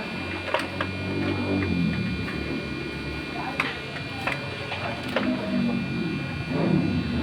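Epson L-series inkjet printer running automatic head cleaning, a continuous mechanical hum and whir with scattered clicks and ticks, while a person talks over it.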